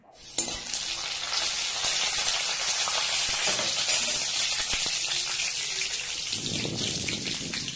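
Cardamom and curry leaves temper in hot oil for malai kofta gravy, giving a loud, continuous sizzle and crackle throughout, with a low bubbling surge near the end and no talking.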